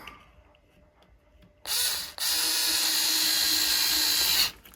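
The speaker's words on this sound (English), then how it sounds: "So now let's put the top screw in first." A screwdriver drives the top screw into a Dyson Laser Slim Fluffy / Detect Slim stick vacuum, giving a close, loud mechanical whir that starts after a quiet moment, pauses briefly, then runs steadily before stopping.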